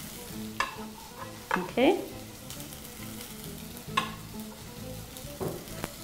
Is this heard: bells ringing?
no